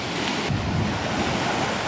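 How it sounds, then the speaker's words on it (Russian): Caspian Sea waves breaking on a beach in Dagestan, a steady loud wash of surf with wind buffeting the microphone throughout, no voices. "Ну что, подходим к Каспийскому морю."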